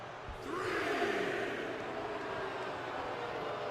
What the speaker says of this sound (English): The crowd's booing him